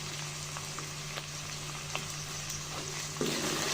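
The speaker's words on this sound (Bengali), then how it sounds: "কাঁচা মশলাটা ভালো করে ভেজে নিব" Raw spice paste of garlic, ginger and cumin with salt fries in a pan with a soft, steady sizzle, faint light crackles and an occasional scrape of stirring near the end.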